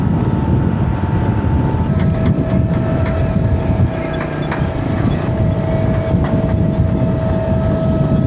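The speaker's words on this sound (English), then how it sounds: "The wind sure don't ever quit around here," Strong, steady wind roars across a dry, open farm field, a constant broadband rush with low rumble filling the whole stretch, loud and unbroken, with faint tonal hums drifting underneath.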